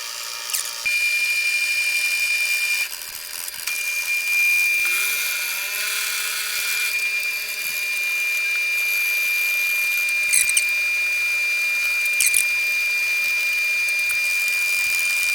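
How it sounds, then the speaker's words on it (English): Electric hand planer cutting across the grain of a wooden muzzleloader stock, a steady high-pitched whine with a harsh shaving roar and a dip in motor pitch partway through as the blades bite, running continuously without talk. "after running my hand planer perpendicular to the grain"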